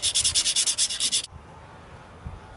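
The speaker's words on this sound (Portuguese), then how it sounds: "eu estou passando uma lixa só para deixar ela mais ou menos" Rust and paint being sanded off a DKW Vemaguete crankshaft pulley with sandpaper: about a dozen quick, even back-and-forth scrubbing strokes, close and loud, then a stop leaving quiet room tone.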